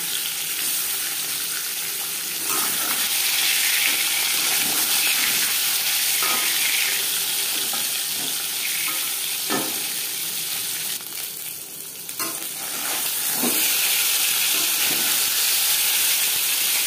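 Fish sizzling and frying in hot refined oil for a Bengali katla fish curry, a steady loud crackling hiss with occasional stirring clinks, no voices.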